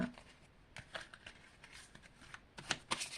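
Tarot cards shuffled and drawn by hand, soft papery riffles and flicks in short bursts, denser near the end, close and quiet with no talk over them.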